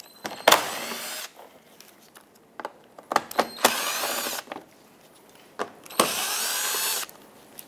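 A power drill backs 8mm screws out from under the bumper cover of a 2014-2021 Mazda 6, with three bursts of whining motor, each about a second long, separated by clicks and handling noises nearby.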